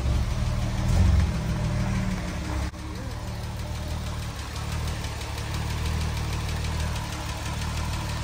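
A 1962 Jaguar XKE engine runs steadily after a cold start, a continuous low rumble with slight knocking texture, close by, with faint voices briefly over it.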